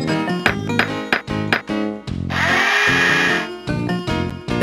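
Toy power-tool sounds from a Bob the Builder plug-and-play video game: rapid rattling drill bursts and clanks, then a long whirring buzz, then more choppy mechanical bursts, loud and close.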